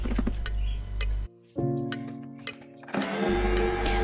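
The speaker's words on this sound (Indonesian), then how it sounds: "setelah tercampur, setelah masuk semua, selanjutnya tinggal di mixer" A stand mixer with about a 4-liter bowl churns cookie dough made with butter. Its motor gives a steady whirring drone that cuts out briefly, resumes, then shifts to a rougher, busier tone near the end.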